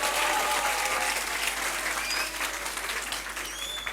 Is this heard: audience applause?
yes